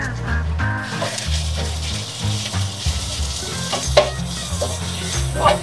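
Spring onion and onion frying in a pan make a loud, continuous sizzle with occasional stirring scrapes and clatter, close up, with no talking.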